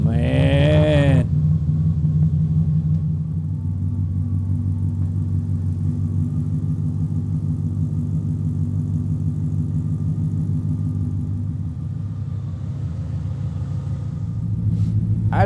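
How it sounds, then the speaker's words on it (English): An old car engine running a Holley Terminator setup idles close by with a deep, steady exhaust rumble. It holds even and loud throughout after a brief burst of sound at the very start. "I just kind of like to sit back here and smell the sweet exhaust and listen to the sweet exhaust"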